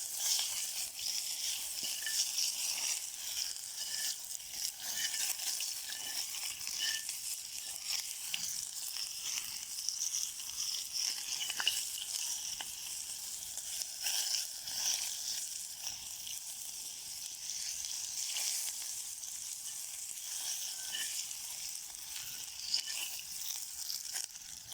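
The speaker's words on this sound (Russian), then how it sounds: "Масло у нас закипело. Ложим лучок. И помешиваем." Chopped onion sizzles and fries in hot oil inside a kazan cooking outdoors in a forest, a steady bright crackling hiss that continues without pause for the whole stretch.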